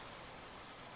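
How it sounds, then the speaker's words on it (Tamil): Steady rain falls continuously, a dense even hiss of drops with no voices, holding at a constant level throughout. "மழை நிக்கிற மாதிரியே தெரியல"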